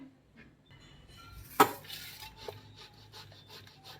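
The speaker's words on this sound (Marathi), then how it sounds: "त्यासाठी आपण हा बटाटा खिसून घेणार आहे" Three large potatoes being grated for samosa filling, rasping scrapes against a metal grater with one sharp clank of the utensil, then a run of quick rhythmic grating strokes, close and moderately loud.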